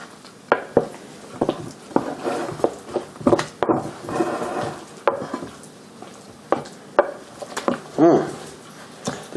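Thick buffalo chicken and jalapeño cheese dip with cheddar, Mexican cheese and blue cheese crumbles is stirred in a bowl, giving irregular scraping thuds and clinks of a utensil, close and fairly loud.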